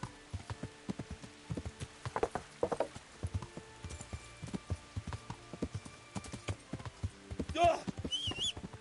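Horse hooves clip-clop at a walking pace in the medieval game Kingdom Come: Deliverance, steady close thuds with game ambience and a brief whinny near the end.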